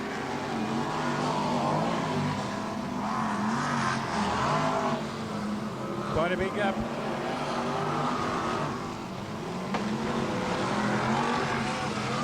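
BriSCA F1 stock cars from the 2000 World Semi-Finals roar past in a continuous, loud engine drone with rising and falling pass-bys, while a commentator talks over the racing throughout.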